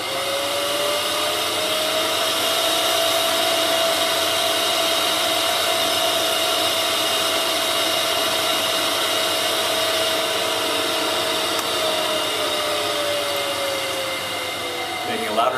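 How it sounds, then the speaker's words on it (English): A benchtop lab centrifuge spins without its rotor lid screwed on, giving a loud, steady whirring roar with a sustained tone that holds for about fifteen seconds and fades slightly at the end. "Making a louder noise because I forgot to screw on the top to the rotor."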